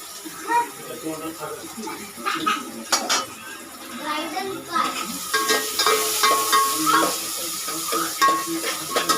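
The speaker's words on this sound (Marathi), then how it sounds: "आणि तेला टाकून आता कांदा टाकून घेऊया" Onion tipped into hot oil for a matar paneer bhaji, with spoon and pan clatter up front, then a broadband frying hiss swelling and holding steady under the clinks. Someone talks faintly in the background.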